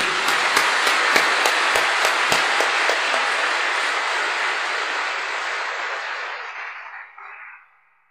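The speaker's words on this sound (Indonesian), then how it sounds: "Tepuk tangan untuk Cak Aziz." A large crowd at a religious gathering in a central hall applauds with a dense, roaring wash of clapping, a few sharper claps standing out early. The applause holds steady, then fades and stops near the end.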